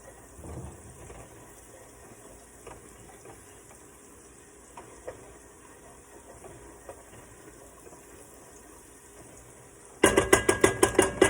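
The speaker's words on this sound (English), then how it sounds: "we're going to give it a good stir" Spice mix and aromatics cook in hot oil with only a faint, steady background for most of the stretch, then a rapid, loud run of rhythmic metallic scraping and clatter from stirring at the very end.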